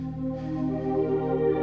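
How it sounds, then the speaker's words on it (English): Sustained synthesizer chord with a slowly brightening tone, held steadily for a moment with no talking. "How about a wild synthesizer sound like this?"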